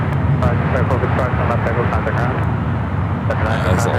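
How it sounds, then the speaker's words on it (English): A United Boeing Dreamliner jet departs SFO airport, its broad engine roar steady and fairly loud across the clip, with a voice talking over it. "That's a long flight on the United Dreamliner."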